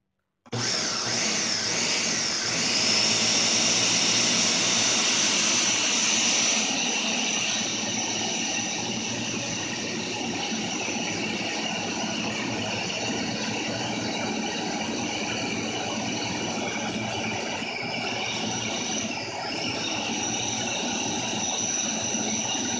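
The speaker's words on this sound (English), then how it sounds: "my food processor is so big, usually this just blends right up" A large food processor runs continuously on vegetables, a loud, steady motor whir with rattling that holds its tone for about twenty seconds, with no talking.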